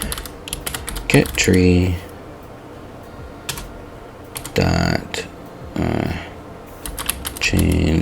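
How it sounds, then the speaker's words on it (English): Quick bursts of computer keyboard typing, crisp close-up clicks in short runs separated by pauses, with someone talking in between. "now it should be as simple as typing"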